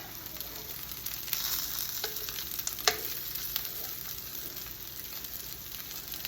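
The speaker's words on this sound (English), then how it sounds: "Now the sausage, we're gonna flip again to make sure that everything" Sausage for chicken and sausage gumbo fries in a pan with a steady, moderately quiet sizzle, joined by a few brief scraping or stirring sounds.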